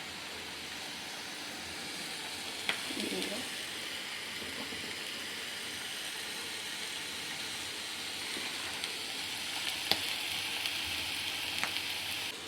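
Steady, soft frying sizzle of paneer toasting in a pan with a few faint clinks and stirring sounds, continuous throughout at low volume.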